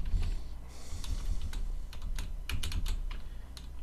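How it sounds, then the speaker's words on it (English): Fingers tap away on a computer keyboard in quick, irregular bursts of clicks, close and clear with no talking over them. "while I'm fiddling with my keyboard"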